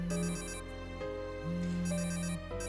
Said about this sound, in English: We are getting a lot of phone calls.